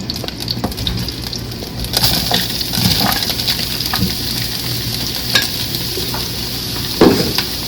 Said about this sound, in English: A little olive oil in that skillet. And we're just going to saute some of this.